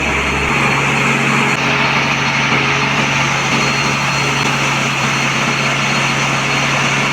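Engine room of the MV Manik 11 passenger launch, a loud constant diesel roar with a steady low hum and bright mechanical whine filling the space, no voices.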